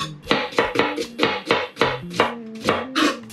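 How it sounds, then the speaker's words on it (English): A knife chops steadily through a small cleaned shallot on a board, about eight crisp, evenly spaced cuts close by with no talking. "I'm gonna just clean it very well and slice it."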